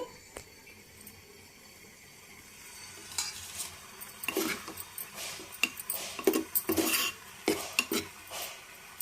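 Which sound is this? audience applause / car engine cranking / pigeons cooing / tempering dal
tempering dal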